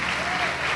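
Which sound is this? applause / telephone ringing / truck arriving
applause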